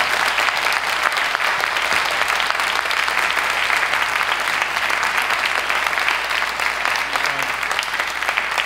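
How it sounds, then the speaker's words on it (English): Sustained audience applause for a panel and actors at a Toronto literary festival event, a dense steady wash of many hands clapping close and even throughout, with no voices over it. "I want to thank our panel with one last round of applause"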